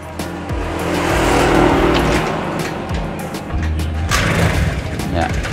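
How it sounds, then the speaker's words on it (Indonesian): A motorcycle running on a battery that goes flat quickly, started and revved nearby, a loud continuous engine drone rising and falling with throttle blips. "Ini motornya masih bisa hidup ya, memang karena pakai aki juga."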